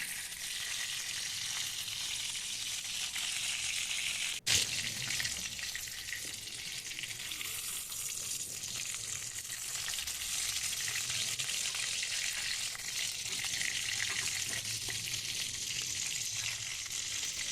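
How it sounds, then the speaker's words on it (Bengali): Chicken momos sizzle steadily in hot oil over low heat, a continuous crackling fry with one sharp knock early on, then the bubbling carries on evenly. "একটু লো আঁচে আস্তে আস্তে ভাজলে খুব ভালোভাবেই ভাজা হয়ে যাচ্ছে"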